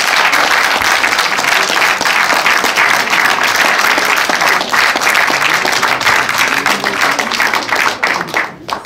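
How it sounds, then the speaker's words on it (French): A cinema audience at Le Balzac applauds the presenting filmmakers and actor, loud, close, sustained clapping from a full room that tapers off in the final second. "Donc merci d'applaudir les frères Larrieux et Mathieu Amalric."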